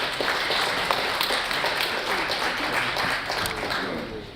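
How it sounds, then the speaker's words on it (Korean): Audience at a Korean talk-show stage event applauding as guests are brought on stage, a steady, moderately distant wash of clapping lasting the whole stretch and easing slightly at the end. "여러분 큰 박수 부탁드립니다."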